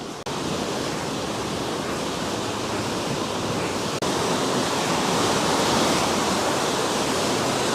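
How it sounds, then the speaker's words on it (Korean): Steady roar of crashing surf at Jeongdong Simgok on Korea's east coast, broadband and continuous, with no voices; the wash swells slightly louder partway through. "파도 소리가 멋있다"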